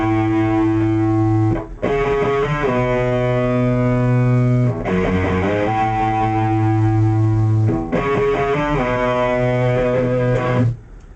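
Distorted electric guitar playing the bridge of a song, with sustained sliding notes moving up and down the neck in a steady repeating phrase, loud and alone.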